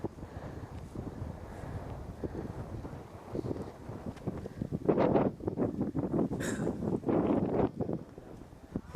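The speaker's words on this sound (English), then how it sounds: "Gust of wind knocked me back." Mountain wind gusting in Nepal, a rough, rushing roar buffeting the microphone that swells louder midway and then eases, with no voices.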